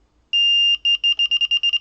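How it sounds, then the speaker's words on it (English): A Delkim carp fishing bite alarm gives one long steady electronic tone, then a quick run of short repeated beeps that speed up, loud and close with nothing else around. "It's just giving you more or less beeps for the movement."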